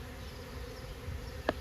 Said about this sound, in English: it looks like my bees are swarming now